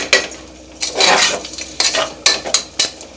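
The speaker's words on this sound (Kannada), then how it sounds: "ಈ ಬೆಲ್ಲ ಇದಕ್ಕೆ ಹಾಕ್ತಾಯಿದ್ದೀನಿ." Jaggery tipped into a pot of cooked rice and moong dal for sweet pongal, with a scattering of close metallic scrapes and clinks from a spoon against the vessel.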